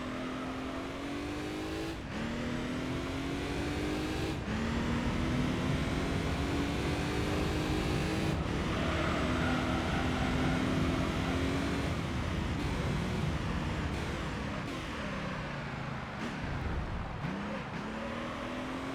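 A race car engine in Gran Turismo 3 drones continuously, its pitch climbing and dropping through repeated gear shifts as it accelerates and brakes around the track, loud and steady throughout with no talk.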